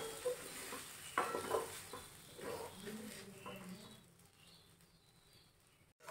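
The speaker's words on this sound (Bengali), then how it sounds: "এই পুরটাকে এবারে অল্প আঁচে এইভাবে নেড়ে নেড়ে শুকনো করে নিতে হবে।" Pea kachori filling is stirred in a pan over low heat, with soft scraping and light sizzling in irregular strokes close by, fading near the end.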